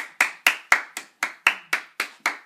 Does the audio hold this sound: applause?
yes